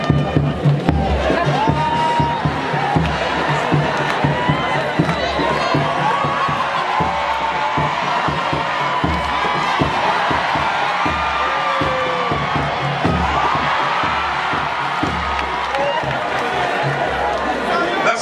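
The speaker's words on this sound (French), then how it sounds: "sous nos applaudissements." A lively crowd at a show cheers and shouts while someone joins the stage, a busy, continuous din of voices and whoops with rhythmic thumping underneath and talk mixed in.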